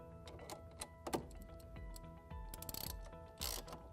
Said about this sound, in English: will use the 3/8 socket loosen all 3 screws and reposition the motor